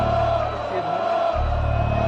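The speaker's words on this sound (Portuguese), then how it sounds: "Olha a torcida, olha a torcida." Football fans in a Madrid stadium shout and roar together, a steady, distant crowd din that swells partway through.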